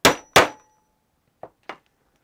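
Hammer blows ring out on metal against a small anvil while hardware is set on a leather crossbody pouch strap: two loud, close clangs in quick succession, then two softer taps after a pause.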